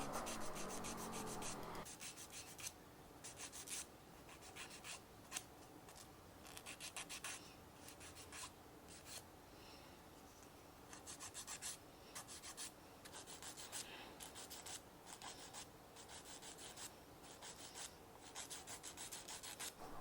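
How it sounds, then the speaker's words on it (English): A nail file rasps steadily back and forth while toenails are shortened and shaped into rounded edges during a pedicure on natural nails, close and continuous strokes with no talking. "So I'm just filing down, taking off some length, as well as doing a rounded shape on the nail"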